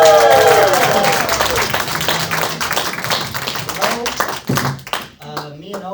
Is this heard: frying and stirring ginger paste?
no